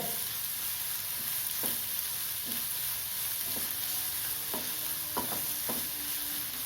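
Onions sautéing in a pan with salt, a steady close sizzle with occasional clinks and scrapes of a spoon against the pan.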